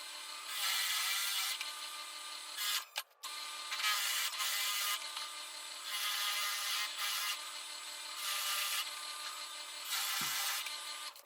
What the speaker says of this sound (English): We took a scrap piece of 2x4, we drilled 5 holes in it.